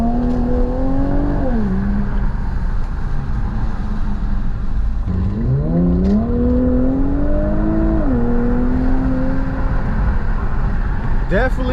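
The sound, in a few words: Infiniti Q50 Red Sport 400 with Motordyne exhaust revving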